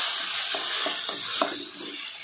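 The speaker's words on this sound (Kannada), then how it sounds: "ಟೊಮೊಟೊನ ಎಣ್ಣೆ ಚೆನ್ನಾಗಿ ಫ್ರೈ ಮಾಡ್ಕೊಳ್ಬೇಕು." Four medium tomatoes sizzle and fry in hot oil in a pan for tomato saaru, with a steady close crackle broken by several distinct scraping strokes of a spoon stirring them. No one speaks.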